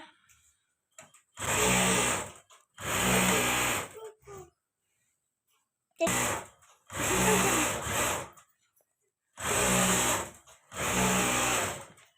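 A sewing machine stitches in short, loud bursts, roughly in pairs, with quiet gaps between them. The motor whirs close by, and no one speaks.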